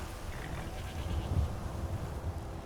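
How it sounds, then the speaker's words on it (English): Goats bleating on a farm in Skyrim, faint overlapping bleats over a low rumbling background, brief and somewhat muffled. "I take care of the horses, and the goats, and the chickens"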